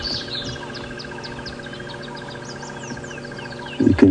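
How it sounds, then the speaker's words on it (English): A crested barbet calls from the background during a morning safari drive at Djuma Game Reserve, a run of repeated shrill trilling notes over a steady insect hum, followed near the end by a louder close rustle. "You can hear the shrill call of a crested barbet in the background."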